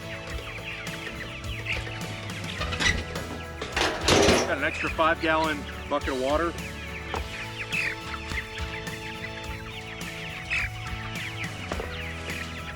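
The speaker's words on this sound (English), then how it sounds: "Come on, chickens." Homestead chickens cluck and squawk near a feed cart beside a chicken tractor, with a few rising calls bunched in the middle, under a man's speech and some clanking.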